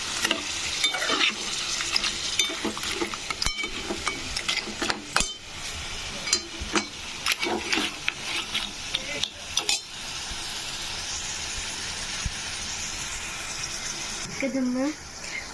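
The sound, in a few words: crab pieces frying and being stirred in a pan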